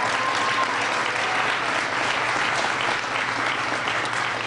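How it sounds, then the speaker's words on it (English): Dense, sustained audience applause fills a university hall at the University of Wisconsin-Madison during a speech by Obama. It stays loud and steady throughout, with no speech over it. "we just want to give Becky a big round of applause."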